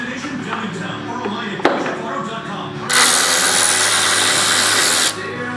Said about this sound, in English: then you take the bolts out for the bottom tray of the battery